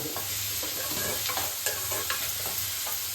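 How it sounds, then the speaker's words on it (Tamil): Fish frying in a pan gives a dense, continuous sizzle and crackle, close and fairly loud, with small pops scattered throughout and no voices. "மீன் ஃப்ரை ஆகிட்டு இருக்கு"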